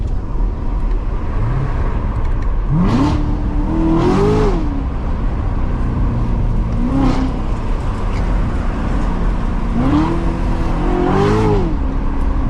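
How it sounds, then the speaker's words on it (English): A supercharged 700-horsepower V8 Corvette revs hard and downshifts in several distinct bursts, each rising then dropping in pitch, heard up close from inside the cabin with no talking. "But I could give you guys some downshifts."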